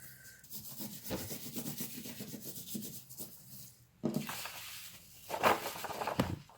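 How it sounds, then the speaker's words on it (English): A brush sweeps excess gold glitter off a Sunday School craft, giving soft, dry rubbing and scratchy strokes in short repeated bursts, close and fairly quiet, with a couple of louder swipes near the end. "I'm actually going to brush off the excess because I don't want too much on here."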